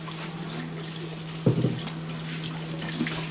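Tap water runs steadily into a sink while something is rinsed under it, with a short burst of splashing midway through over a constant low hum.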